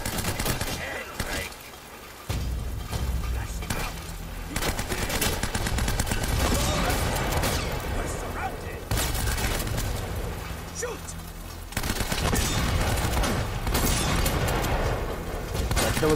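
Enemy gunfire rattles in Uncharted: Drake's Fortune, loud bursts of automatic shots and booming blasts in repeated volleys, with a player talking over the action.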